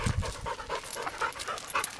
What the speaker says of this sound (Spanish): Este perro es un cazador de conejos.